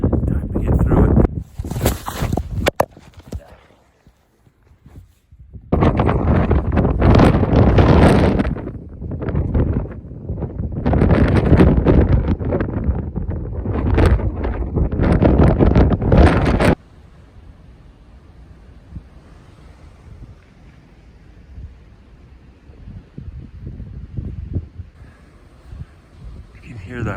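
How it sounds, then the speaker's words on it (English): Strong wind roars and buffets the microphone at the Keyhole on Longs Peak, a loud, continuous rush with gusty surges that drops abruptly to a quieter steady blow near the end. "Hear that wind ripping"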